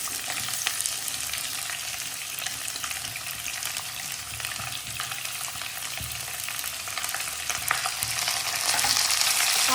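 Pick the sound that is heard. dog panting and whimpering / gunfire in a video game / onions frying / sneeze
onions frying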